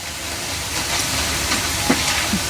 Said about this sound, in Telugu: మంచిగా ఇవన్నీ మనం డీప్ ఫ్రై చేసుకోవాలండి.